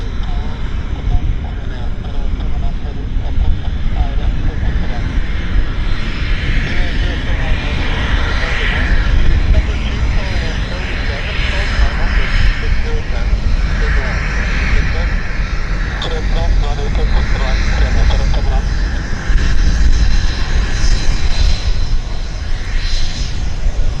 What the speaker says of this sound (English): So they're going to start their takeoff roll here pretty soon.